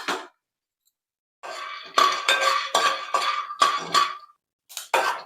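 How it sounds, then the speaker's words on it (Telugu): Peanuts clatter into a metal pan for a masala capsicum curry, a series of sharp, close metallic clinks and rattles in several bursts after a quiet start. "పల్లీలు అయితే వేసుకుందాం"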